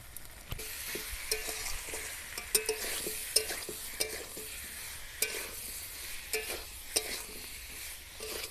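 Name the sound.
potatoes being stirred and sautéed in a pan for alur dom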